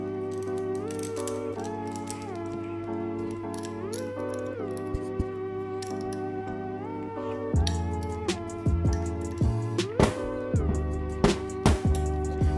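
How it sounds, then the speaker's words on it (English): A screw is tightened onto an Indo trampoline scooter, giving ratcheting clicks that grow louder and more frequent in the second half, with steady music playing underneath. "And then now you just need to screw that on."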